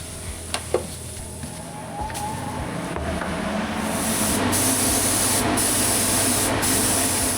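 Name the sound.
paint spray gun spraying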